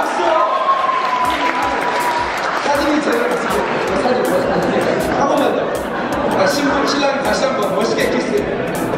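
Wedding guests clap together after the bride and groom kiss at a church ceremony, a steady, full round of applause that lasts throughout, with crowd murmur and some voices mixed in.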